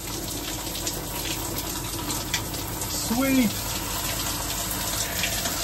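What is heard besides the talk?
RV high-pressure shower head spraying water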